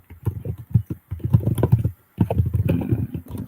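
Quick, dense tapping on a computer keyboard close to the microphone, in two bursts split by a short pause, fairly loud with no voices.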